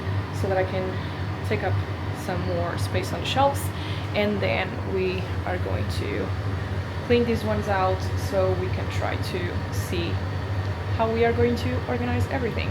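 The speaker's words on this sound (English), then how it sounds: "sorry about the noise, but the AC is on because it's very warm in here" An air conditioner hums steadily in a warm, echoey studio room without carpets or rugs, a constant low drone running beneath someone talking throughout.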